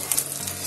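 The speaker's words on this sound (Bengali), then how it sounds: "এখানে প্রথমে আলুটা ভেজে নিয়েছি" Potatoes frying in oil, salted and seasoned with turmeric while cooking for chicken biryani, give a steady, close, loud sizzle with crackly hiss, heard alone.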